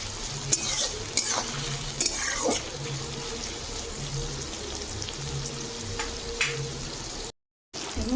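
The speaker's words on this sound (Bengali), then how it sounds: "টমেটো আর পেঁয়াজ সুন্দর করে গলে গেছে দেখুন কত সুন্দর ভাজা হয়ে গেছে" Chopped tomato and onion fry in a pan, a steady close sizzle with repeated spatula stirs and scrapes against the pan, then a brief cut to silence near the end.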